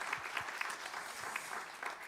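Audience applause at a Korean manufacturing AI solutions pitching day, following a startup's ten-minute presentation; steady dense clapping from a seated crowd, moderately quiet and continuous for about two seconds with no speech.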